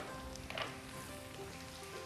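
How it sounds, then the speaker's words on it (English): Chicken with capsicum, cabbage and other colorful vegetables sizzling in a pan for teppanyaki, a steady close frying hiss throughout with a brief louder crackle near the start. "All the veggies are gone into my pan."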